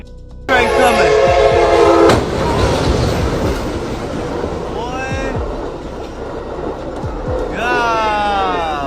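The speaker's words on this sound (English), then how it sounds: "Train coming." A train approaches a level crossing in Acworth, Georgia, where a trailer loaded with furniture is stuck, sounding loud, harmonic horn blasts at the start, the middle and the end over a heavy rolling rumble.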